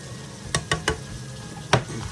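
Pork sautéing in oil with tomatoes and onions for kinamatisan, a soft sizzle under four sharp scraping stirs of a utensil against the pan, close and brief.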